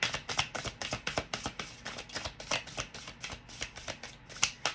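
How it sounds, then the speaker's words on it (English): A deck of tarot-style reading cards being shuffled by hand, with rapid papery riffles and slaps in a steady rhythm, close and alone. "Let's do one last shuffle."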